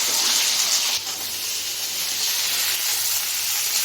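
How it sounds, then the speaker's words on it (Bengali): Long-cut okra fries in hot oil with a loud, steady hiss and crackle up close. The sizzle dips briefly near the start and then carries on evenly, with no voice. "ঢেঁড়সটা একটু ভেজে নেব।"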